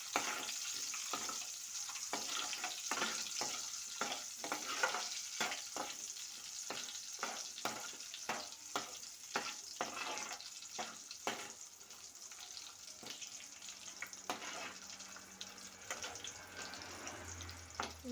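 Washed dried fish frying in a spoonful of oil, a continuous sizzle broken by a quick series of sharp scraping strokes, easing off toward the end.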